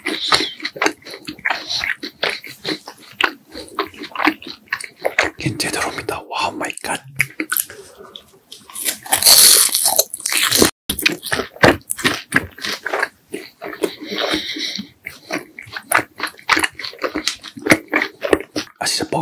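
Close crunching and chewing bites of fried rice cake made with mugwort (hwajeon) in an ASMR mukbang, repeated and irregular, with soft whispered talk in between.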